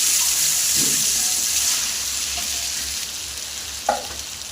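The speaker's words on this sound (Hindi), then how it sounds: "अब इसमें चावल डालेंगे।" Rice going into a pot of sweet zarda with green cardamom: a steady sizzling, watery hiss runs throughout, with a few soft bumps and one brief clatter near the end, no voices.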